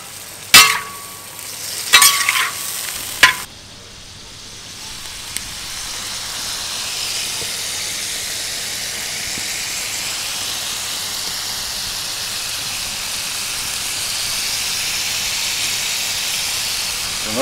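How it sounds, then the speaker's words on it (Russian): Meat frying in a pan with adjika and khmeli-suneli spices for Georgian ojakhuri, a steady close sizzle and hiss running throughout after a few sharp clinks of utensils at the start. "Наше мясо уже пожарилось."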